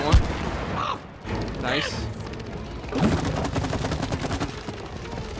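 Video game gunfire in It Takes Two, a battle against wasps with a mortar: bursts of shots and booms through the whole stretch, loud and dense, while players talk excitedly over it.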